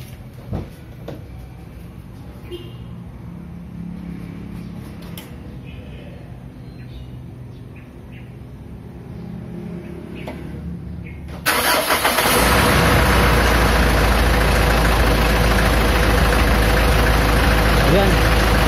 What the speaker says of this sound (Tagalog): So tingnan natin kung gumagana ang ating cooling fan motor na siyang nagpapalamig sa ating condenser.